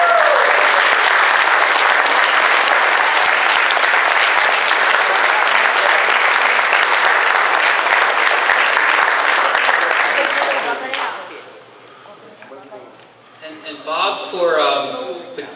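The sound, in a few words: audience applause at an awards ceremony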